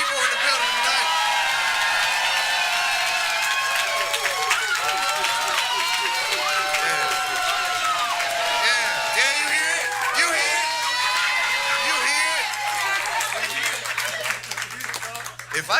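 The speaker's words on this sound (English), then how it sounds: "We got a sold-out crowd of 300 people in the building tonight." At a sold-out live comedy show with about 300 people, the crowd cheers, whoops and applauds loudly and continuously. Dense clapping mixes with shouting voices.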